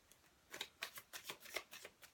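Tarot cards are shuffled close by in a quick series of soft papery riffles and snaps, about a dozen short bursts in a quiet room.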